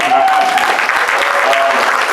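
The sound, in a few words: audience applause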